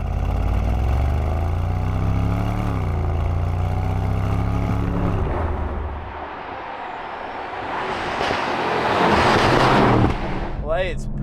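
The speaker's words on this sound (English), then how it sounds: "the rumble that you get inside, which is delivered from your engine" Mercedes-AMG GT 63 engine heard from inside the cabin, a low continuous rumble with rising and falling pitch as revs change, swelling louder toward the end, with someone talking over it.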